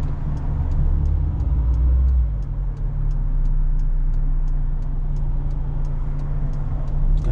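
Car engine pulling in first gear on approach to a junction, a steady loud low drone with road and tyre roar throughout, no talk.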